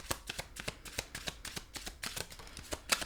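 Tarot cards are drawn and handled from a deck, making a rapid run of soft, close papery flicks and snaps in an uneven, quick rhythm, quiet and alone.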